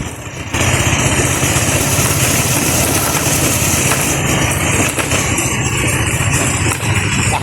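A guide's motorcycle runs steadily along a broken village road, a loud, close, continuous engine drone that kicks in after a brief quieter start and holds without voices.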